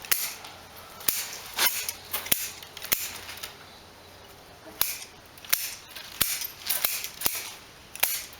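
Sharp snips of scissors trimming bushy foliage on a variegated juniper bonsai (Juniperus chinensis) click out close and crisp at irregular intervals, about a dozen cuts over a quiet background.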